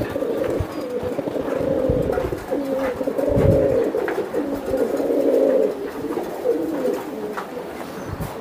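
Racing pigeons coo softly and steadily at close range, their low rolling calls overlapping in a continuous murmur with no talk over them.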